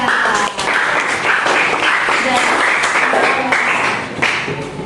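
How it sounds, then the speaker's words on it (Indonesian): A group applauds a participant named Mas Rega after he speaks in a career-potential workshop, with loud, dense clapping throughout and some voices mixed in. "tepuk tangan untuk Mas Rega"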